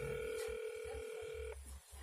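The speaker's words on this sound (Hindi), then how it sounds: "घंटी जो है जा रहा है।" A continuous electronic ringback tone from an internet-generated phone call sounds for about a second and a half and then cuts off, leaving low background hum.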